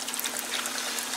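Diet ginger ale poured over ice cubes gives a brief, steady fizzing trickle, close and moderately loud, with no talk.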